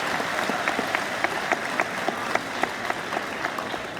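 Audience applause for students at an Athens High School awards ceremony, a sustained wash of clapping with distinct sharper individual claps popping through, steady across the whole stretch with no talking.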